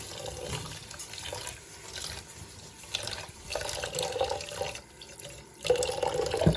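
Millet being rinsed under running water for milk porridge, a steady close splash and trickle into a bowl or sink that swells louder near the end, with no talking.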